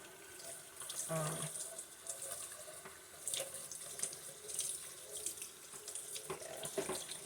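Running tap water splashes steadily into a sink while conditioner is rinsed out of Bratz doll hair, a continuous close stream with faint handling sounds and light talk over it.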